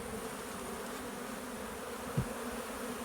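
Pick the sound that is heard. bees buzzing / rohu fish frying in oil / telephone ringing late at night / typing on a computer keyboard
bees buzzing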